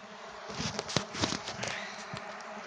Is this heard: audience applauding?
no